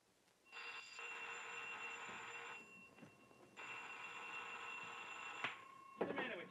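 Old-fashioned telephone bell ringing in two long, steady bursts with a short gap between, fairly loud and close, followed by brief clattering noise at the end.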